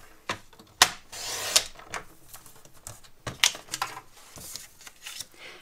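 Blade cutting and scoring card stock while making a maritime-themed stand-up card, a few sharp scraping strokes and taps spread irregularly, close and fairly quiet with no talking.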